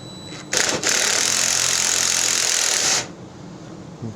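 Loud, steady whir of a power tool, likely an impact driver, loosening a bolt from the wheel axle of a 2012 Murray snow blower, running for about two and a half seconds before stopping, then a faint knock.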